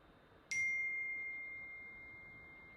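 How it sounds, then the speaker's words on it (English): Mobile phone notification ding, a single clear bright chime that rings out once and fades slowly against a quiet indoor room, with no voices. "My phone is just dinging."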